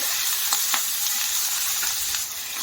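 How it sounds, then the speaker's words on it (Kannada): Ginger and garlic fry in oil over a high flame, a loud continuous hiss of sizzling broken by a few quick stirring scrapes. "ಇದಕ್ಕೆ ನಾನು ಶುಂಠಿ ಬೆಳ್ಳುಳ್ಳಿ ಹಾಕ್ತಾ ಇದ್ದೀನಿ. ಹಾಕಿ ಫ್ರೈ ಮಾಡಿ."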